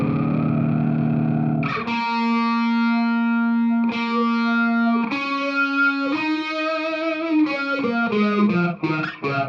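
An electric guitar runs through a Fractal Axe-FX talkbox-style effect with distortion, its sustained notes shifting through vowel-like ooh and ah shapes as they slide between pitches, played alone in a riff.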